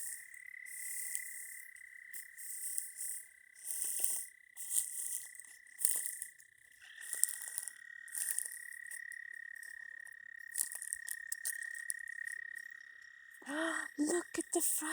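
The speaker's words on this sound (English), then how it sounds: "Look at the frogs and the toads." Frogs, toads and insects call at night near water, a constant high insect drone under repeated bursts of chirping and trilling, with a few faint voices and rustles near the end.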